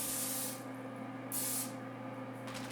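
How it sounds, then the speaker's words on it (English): Two short hissing bursts of cooking spray onto aluminum foil, close and bright, with a quieter hum underneath and a faint rustle at the end. "Spray the foil with cooking spray."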